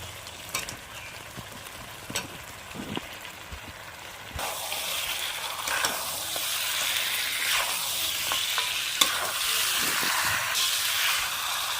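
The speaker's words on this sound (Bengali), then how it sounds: "আরো কিছুক্ষণ কষিয়ে নেব। উপর দিয়ে মাংস দিয়ে দেব।" Home-raised Sonali chicken meat sizzles and fries in a pan with spices and tomato paste, a steady close hiss that grows louder midway, punctuated by scraping stirs.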